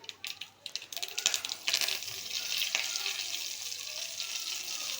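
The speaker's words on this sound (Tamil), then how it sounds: "கடுகு நல்லா பொரிஞ்சதுக்கப்புறம் கொஞ்சமாக கறிவேப்பிலையும் சேர்த்திக்கோங்க" Mustard seeds and curry leaves sizzling in hot oil for pepper rasam, a loud bright crackling hiss that rises sharply after a few pops and then holds steady close by.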